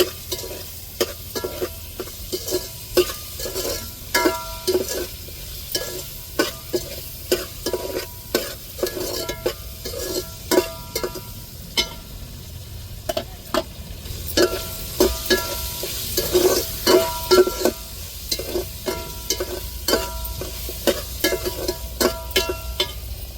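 Eggplant fries in a pan for onion kuzhambu, a continuous sizzle broken by frequent close scraping and clattering strokes of a stirring spoon, irregular but steady throughout, with no speech.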